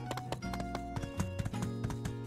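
Horse hooves clip-clop in the video game My Time at Portia, a steady run of rhythmic clopping over a looping musical background, close and clear, with no talk.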